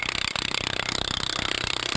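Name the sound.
core drill cutting into concrete curb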